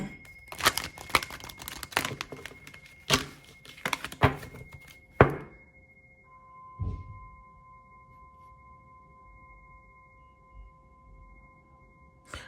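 Tarot deck of cards being shuffled close up, several quick crisp riffling bursts and slaps over about five seconds, then a single soft thump before near silence with a faint steady tone.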